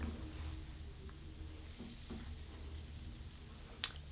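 Hamburger steak patties sizzling in a frying pan as they are flipped, a faint, steady crackle with a soft clatter near the end.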